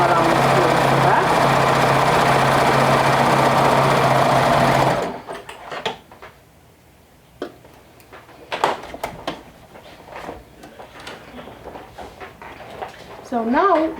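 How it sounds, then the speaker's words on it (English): Domestic sewing machine top stitching a seam on a hoodie: a loud, close, steady motor whir with rapid needle chatter for about five seconds, then stops, followed by quieter handling noises and faint talk. "I'm just top stitching my seam around towards the back."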